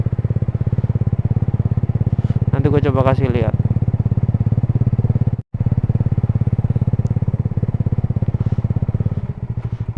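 Suzuki GSX motorcycle fitted with a WRX Lingga aftermarket exhaust idling steadily up close, a deep continuous throb with a brief rev partway through and a momentary cutout, under casual talk.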